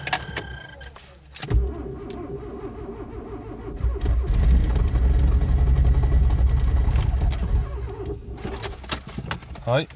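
A car engine cranks for several seconds in winter cold without catching, a steady churning whir. Keys jangle nearby and a voice speaks briefly before the cranking starts.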